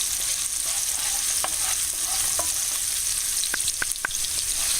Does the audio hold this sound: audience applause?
no